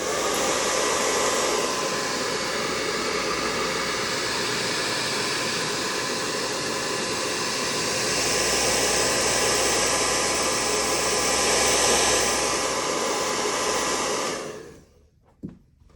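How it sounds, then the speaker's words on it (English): Hair dryer held at a distance and blowing over the freshly washed forecastle deck of a 1:200 Gallery Models Yamato battleship kit, a steady loud whoosh that runs for about fourteen seconds and then cuts off. "I can take the hair dryer, and I want to kind of hold it away"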